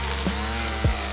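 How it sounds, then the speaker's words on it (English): A gas string trimmer cutting back brush beside a wooden mountain bike skinny: a steady, buzzing motor drone held at constant pitch, with two brief louder surges as the line bites into growth. "with a little bit of weed whacking"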